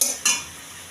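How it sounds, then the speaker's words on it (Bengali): Spinach and paneer masala being stirred in a frying pan: two quick scraping strokes of a spoon over a soft continuous sizzle, close and alone. "এবার একটু নাড়িয়ে নেব।"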